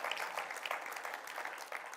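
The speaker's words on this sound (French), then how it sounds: "Est-ce que je peux entendre une église qui applaudit?" A church congregation claps together in a dense burst of applause that fills the whole short moment, close and lively.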